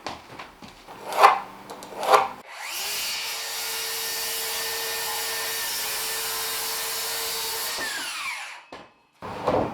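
A power saw cuts an inch off a wooden board, spinning up after two short knocks and running steadily for about five seconds before winding down, loud and close with no talk.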